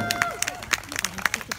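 Scattered hand claps from a small outdoor crowd at a village May Day celebration, with sharp irregular claps near the listener over background chatter and voices.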